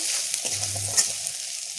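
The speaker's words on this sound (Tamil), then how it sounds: "சேப்பங்கிழங்கு போட்டு வதக்கிக்கலாம்" Pre-boiled taro root sautéed in a pan with fennel seeds, giving a close, steady sizzle of hot oil with a few stirring scrapes and clinks, no voices.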